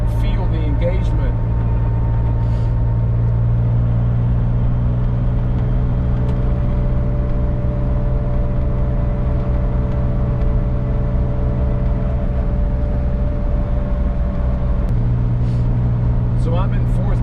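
Vintage Porsche 911 cruising in fourth gear at around 45 mph, a loud steady engine drone heard from inside the cabin with road rumble, and someone talking over it throughout.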